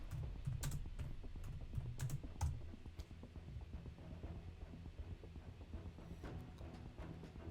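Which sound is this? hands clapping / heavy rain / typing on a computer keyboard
typing on a computer keyboard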